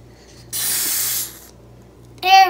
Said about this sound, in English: And now we're gonna shake, shake, shake, shake, and spray it.